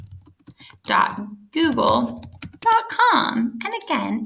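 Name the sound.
typing a web address on a computer keyboard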